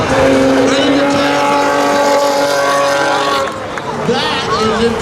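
A street legal drag race car launches and accelerates hard down the strip at a drag meet, its loud engine roaring and rising in pitch, with spectators talking over it.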